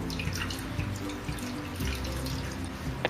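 Water is poured and dripped to rinse henna, with running splashes and scattered drips at close range, steady throughout with no talking.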